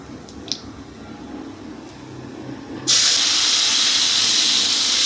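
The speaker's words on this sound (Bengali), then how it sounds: "তেঁতুলের যে জলটা বের করেছিলাম, ওই জলটাই দিয়ে দিলাম।" Tamarind water is poured into a hot cooking pan, with a soft background lull followed by a sudden loud, steady hiss and sizzle that continues to the end.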